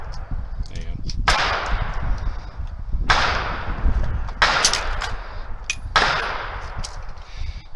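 A PWS MK216 rifle fires: loud, sharp reports, each followed by a lingering echoing tail, come in a few spaced bursts, close to the microphone.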